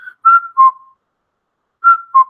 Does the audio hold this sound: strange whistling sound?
yes